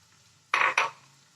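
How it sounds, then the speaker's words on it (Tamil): Ground tomato paste hits a hot frying pan for a roadside-style egg gravy in two quick, loud hissing splashes, each about a quarter-second long, close up, then fading to a quiet background with no voices. "இப்ப அரைச்ச தக்காளியை ஊத்திடலாம்"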